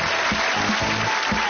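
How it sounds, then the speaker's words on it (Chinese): Children clapping for themselves at the end of a magic trick lesson, a steady ragged patter of many small hands with a few louder claps standing out, continuous and close. "让我们为自己鼓鼓掌"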